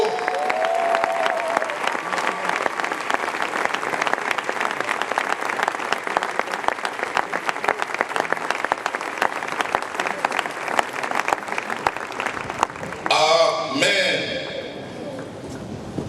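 A crowd at a wedding celebration in the Democratic Republic of Congo claps steadily and densely for about thirteen seconds, mixed with cheering voices, before the applause thins near the end.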